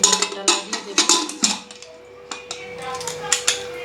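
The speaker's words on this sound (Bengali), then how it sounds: "এখন আমি প্রেসার কুকারের ঢাকনাটা লাগিয়ে দেব।" Clattering metallic clinks and knocks as the lid of a pressure cooker is fitted on in a home kitchen, a quick run of sharp taps followed by a few lighter scattered clicks.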